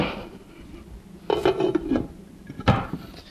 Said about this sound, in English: Now I'm going to just put a top on this.